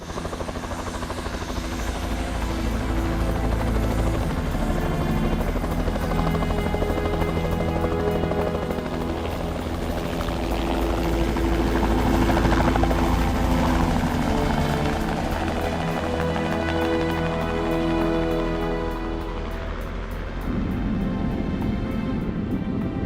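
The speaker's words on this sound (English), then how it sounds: "the minute that chopper starts up" A helicopter's rotor beats and engine whine thrum steadily and loudly throughout, close by, with no talking.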